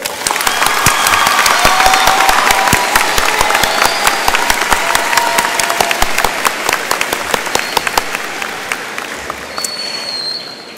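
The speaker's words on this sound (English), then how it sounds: "On the count of three, give them your best applause." A high school graduation audience bursts into loud applause, many hands clapping densely and evenly before gradually thinning toward the end, with no voices over it.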